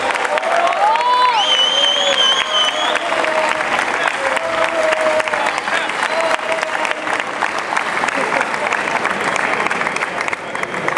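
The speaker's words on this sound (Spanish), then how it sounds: "Fuerte el aplauso para Horacio Nasillo." Sustained applause from a crowd at a marathon awards ceremony honoring runner Horacio Nasillo, steady and dense throughout, with a few whistles and cheers rising above the clapping early on.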